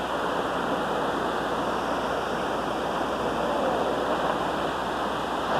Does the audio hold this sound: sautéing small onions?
no